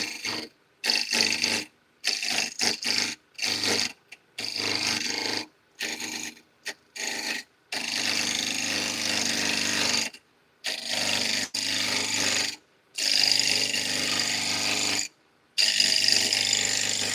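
A wood lathe turning a workpiece with a carbide turning tool gives bursts of dry rasping, scraping cuts. The bursts come in short, uneven strokes separated by brief pauses, then run in longer stretches. The cutting is close and fairly loud, with no talking.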